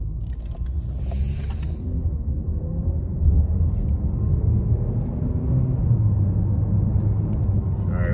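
A Chevrolet Impala with a history of breaking down, driven down a neighborhood street: low, steady engine rumble heard from inside the car, rising slightly partway through, with faint creaks and no talking.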